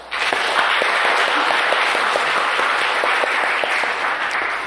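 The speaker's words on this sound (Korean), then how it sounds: "주님께 영광의 박수를 한번 올려드립시다." A church congregation claps together for the 39th anniversary Sunday of its founding, a dense, sustained wash of many hands filling the room at steady loudness with no talking.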